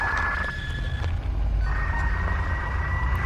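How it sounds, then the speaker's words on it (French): Telephone ringing indoors with a steady electronic tone that briefly breaks off and resumes, fairly loud against a constant low background hum, in a haunted-house horror film. "Il déconne toujours, ce téléphone."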